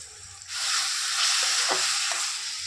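Steady sizzling of onions and garlic frying in a pan, with a couple of faint scraping stirs; no voices.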